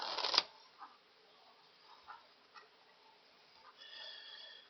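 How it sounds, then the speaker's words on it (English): A short, crisp riffle of a deck of playing cards being shuffled for the card game Kaydoh opens the moment, followed by a few faint, scattered taps and clicks of cards in a quiet room. "now it's time to shuffle the cards for player 2's turn"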